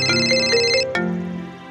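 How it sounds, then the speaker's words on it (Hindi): A mobile phone plays a bright electronic ringtone melody in a repeating pattern of tones, loud and close, before it cuts off and a final tone rings out and fades. "मेरा फोन है। विकास का फोन है।"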